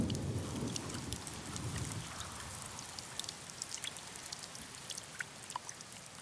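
Rain falls on pitcher plants in a quiet, scattered patter of individual drops, with a soft rushing wash at first that thins into sparse taps and a faint background hiss, with no voices.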